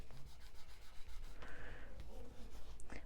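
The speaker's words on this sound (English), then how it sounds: "Just going to burnish that down because that cloud glue takes a" Glued paper is burnished down onto a pop-up card, giving a steady close rubbing and scraping that comes in quick repeated strokes, fairly quiet, with no talking.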